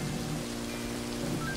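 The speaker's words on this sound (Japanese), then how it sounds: "ああ、この雨は最悪だな。" Steady rain in the video game Animal Crossing, pirated copy: a continuous dense hiss of falling rain, even and moderately loud throughout, with no talk.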